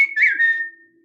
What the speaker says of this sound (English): Most of the time if I have a tick whistle,